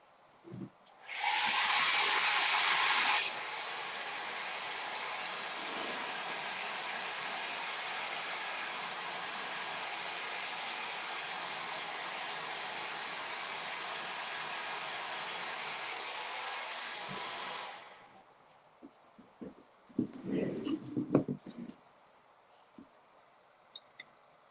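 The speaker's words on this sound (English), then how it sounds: "I think I want to do another quick blow dry so I can keep adding to it" Hair dryer blowing steadily on wet paint while decorating a Christmas topiary craft, a loud close hiss running about fifteen seconds with a stronger burst at the start, then switching off to quiet handling noises.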